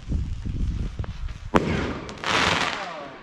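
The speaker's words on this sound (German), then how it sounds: "jetzt kommt eine Rakete mit Effekt oder so" A firework rocket with an effect whooshes up and bursts at a New Year's Eve party, with a sharp crack followed by a bright, sustained crackling hiss, fairly close and loud over background noise.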